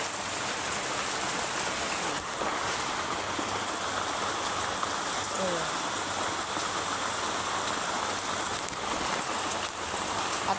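Steady rain falling outdoors in cold weather, a constant dense hiss with no let-up.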